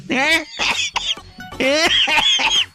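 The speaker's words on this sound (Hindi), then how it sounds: "अब खांसी एक ही बार आई, इसको 2 बार लाना पड़ेगा।" A person nearby gives harsh, voiced coughs in two bursts, with short throaty vocal sounds between them.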